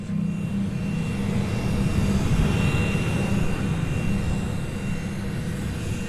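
Private chartered jet reserved for government use, its engines a steady, loud low roar like a cabin drone, continuous and unchanging throughout with no talking.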